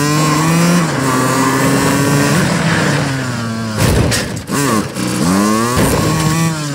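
Light vehicle engine in Call of Duty Warzone, a loud continuous drone with rising and falling revs, close and steady, briefly interrupted by clunks.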